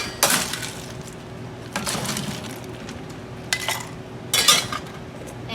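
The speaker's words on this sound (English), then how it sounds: "So we're going to add a scoop of ice." A scoop of ice tumbles into a glass mason jar of iced matcha, giving several sharp, clattering clinks in separate bursts, close up and otherwise quiet.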